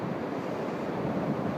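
Steady rushing water from a stream flowing close beside a bushcraft bivouac site, a continuous broadband wash with no voices.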